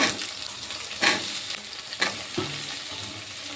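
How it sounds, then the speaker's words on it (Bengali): Potatoes and onion frying in oil in a pan, a continuous sizzle punctuated by a few sharp stirring knocks, close and fairly quiet with no voices. "আলু পেঁয়াজটা ভালো করে ভেজে নেবো।"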